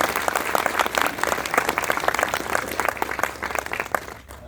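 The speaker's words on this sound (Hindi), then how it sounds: "एक बार आप सबके लिए दोबारा जोर से तालियां बजा दें" Audience applause at a university career guidance event, dense sustained clapping from a crowd that thins out near the end, with no voices over it.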